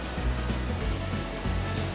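Dense, steady roar of heavy monsoon rain pouring down in Konkan, loud and continuous with no pauses.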